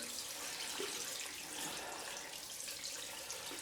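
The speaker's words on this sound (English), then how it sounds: "Sorry about the running water." Water runs from a tap into a sink in a steady, hissing stream, close and continuous without breaks, with nobody speaking.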